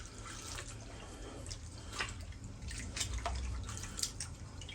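Water sloshes and swirls in a basin of dissolved detergent meant for soaking blood-stained fabric: a close, continuous liquid wash with small splashy drips, fairly quiet and steady.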